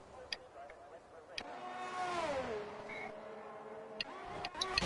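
A racing car in a video game slows into the pits: its engine whine falls in pitch as it decelerates, with sharp clicks and ticks around it and faint background chatter.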